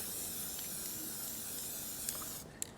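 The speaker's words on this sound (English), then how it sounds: "Give the can a good shake, spray" An aerosol can of ceramic weld anti-spatter spray gives a steady, close, loud hiss that runs continuously for nearly three seconds, then ends with a few faint clicks.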